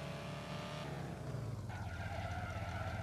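Tires skid and scrape as a heavily lowered Audi A5 attempts a drift, a broad sustained screech over the steady engine drone, loud and close with no talk.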